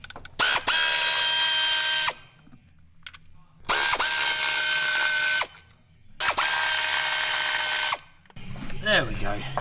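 A ratchet works loose the 4 mm Allen key bolts on a Nissan Pulsar GTI-R throttle body, clicking rapidly in three loud bursts of about two seconds each, separated by short pauses with faint handling noise.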